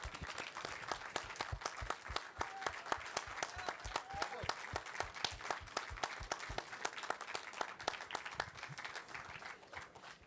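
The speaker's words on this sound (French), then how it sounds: "je vais vous demander de les applaudir très fort pour ces 2 journées" An audience at a festival closing gives festival volunteers loud, sustained applause, the clapping settling into a steady rhythmic beat that carries on throughout.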